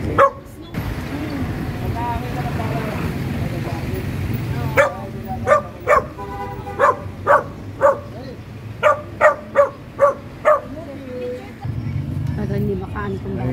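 Dog barks in a run of sharp, evenly spaced yips and woofs through the middle of the clip, close and loud, over a busy street backdrop with people talking, in a Makati City neighborhood.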